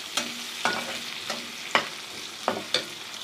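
Onions browning in hot oil in a pot for arvi masala, with garlic already fried: a steady sizzle broken by several sharp scrapes of a spoon stirring through them, close and clear.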